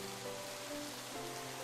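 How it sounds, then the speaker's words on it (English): Steady rain falls at night in the game Psychedelica of the Black Butterfly, a soft continuous patter under faint sustained musical tones, quiet and unbroken. "I hear the rain far off in the distance, although it sounds like it's right in my ear"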